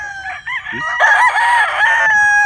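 A gamefowl rooster at a game farm crows loudly nearby, a single drawn-out call rising and holding before trailing off.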